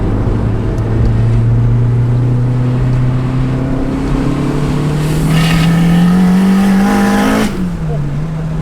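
A 645bhp Honda Civic Type R accelerating hard on a test drive, engine note climbing steadily through a long pull before a sudden drop at a gear change, heard loud from inside the car with voices over it.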